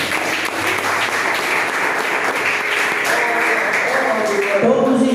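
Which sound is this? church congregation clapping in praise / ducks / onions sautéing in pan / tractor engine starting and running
church congregation clapping in praise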